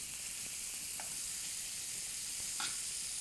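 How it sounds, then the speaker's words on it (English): Filet mignon sizzles steadily in a hot pan with butter, a constant bright hiss with a couple of faint clicks from utensils, and no talking. "And at this point, I add the rest of my butter."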